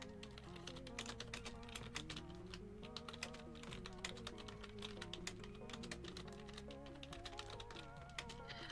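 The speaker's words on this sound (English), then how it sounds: "y'all are gonna hear my keyboard clacking for a moment" Steady computer keyboard typing, a fast irregular run of clacking keystrokes close by, continuing throughout with no talking.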